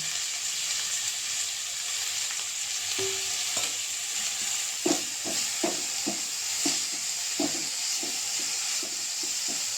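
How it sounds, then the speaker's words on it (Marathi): Fresh coriander leaves stirred and frying in hot oil with a pinch of asafoetida for kothimbir vadi, giving a steady close sizzle broken by repeated soft scraping stirs in the second half. "तेल तापलंय आणि त्यात आता ही कोथिंबीर परतवून घ्यायची"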